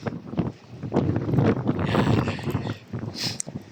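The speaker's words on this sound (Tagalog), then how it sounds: "Ano ba ang yun? Lakas ng hangin." Loud gusts of strong wind roar across the microphone, swelling and easing, with a brief higher whoosh near the end.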